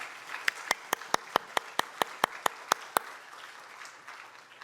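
At a Korean Sunday worship service, a congregation welcomes a speaker with soft, diffuse applause, while one loud, close clapper strikes a steady run of about a dozen evenly spaced claps before the sound thins out and fades.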